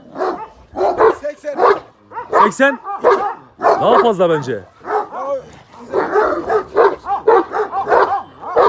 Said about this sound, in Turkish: Maşallah çok güzel köpek.